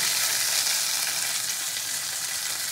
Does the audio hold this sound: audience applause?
no